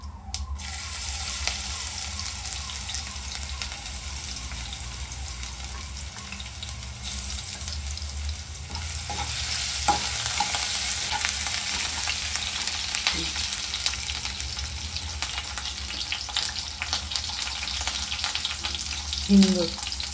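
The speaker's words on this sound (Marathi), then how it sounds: "आता लसूण परतून घेऊया जरा" Garlic frying in hot oil with cumin, mustard seeds and curry leaves for a guar garlic sabji, a continuous close sizzle and crackle with occasional spoon clinks, running steadily with no voices.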